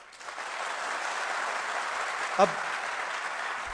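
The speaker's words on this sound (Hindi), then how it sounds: "मैं जानता हूँ कि आप ताली बजा रहे हो" Audience applause at a political speech addressing young people in New Delhi, a steady broad wash of clapping that runs through the whole stretch, with one brief spoken word cutting in midway.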